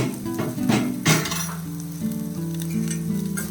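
Raw banana and ginger sautéing in a pan, giving a steady close sizzle with the scrape and clink of a stirring spoon against the metal.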